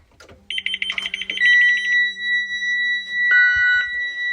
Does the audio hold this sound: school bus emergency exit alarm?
yes